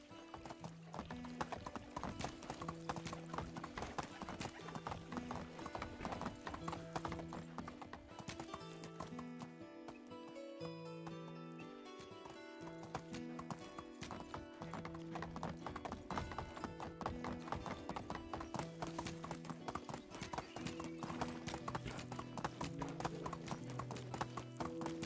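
Horse hooves clip-clop steadily and continuously in the medieval survival game Medieval Dynasty, a close, even trotting rhythm under a layer of game music, with a brief whinny.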